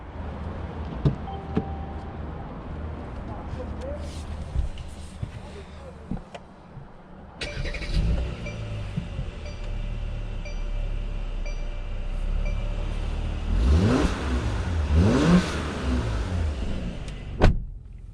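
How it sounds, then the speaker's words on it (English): A 2021 Mercedes-Benz C43 AMG sets off on a test drive. Steady engine and road noise fill the cabin and swell as the car moves off, with some mechanical whirring and clicks along the way. "let's go ahead and take this 2021 Mercedes-Benz C43 on a test drive and see how it does"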